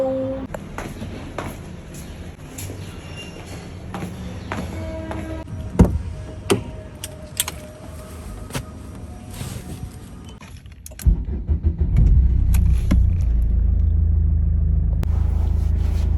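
A car is driven by a woman wearing a saree, with a steady engine rumble, small interior clicks and rattles, and a louder, deeper road roar building near the end.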